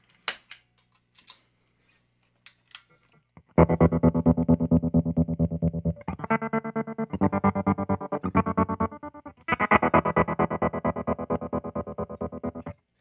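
Electric guitar through an Empress Tremolo 2 pedal on a square waveform at full depth, played alone: after a few faint taps, sustained chords are chopped into a hard, even on-off pulse with brief gaps between chord changes.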